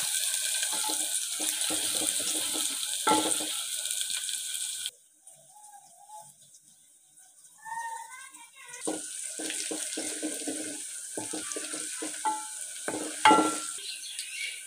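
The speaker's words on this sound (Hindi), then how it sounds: "और प्याज को भूनेंगे।" Chopped onions frying in hot cooking oil in a village kitchen, a steady close sizzle and crackle that drops away briefly midway, then returns with stirring scrapes.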